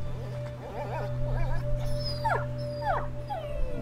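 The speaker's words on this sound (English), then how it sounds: "It's a dog. Why is he crying?" A dog in the game A Plague Tale whimpers and cries in a run of wavering, high-pitched whines that rise into sharper yelps, heard close over a steady low hum.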